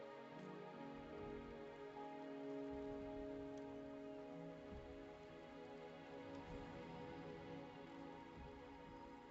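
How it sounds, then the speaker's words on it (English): Rain falling in the Wuthering Waves video game, a steady dense patter of drops on surfaces, soft and continuous throughout with a faint musical drone underneath and no voices. "The rain is subsiding, and the sky will soon clear."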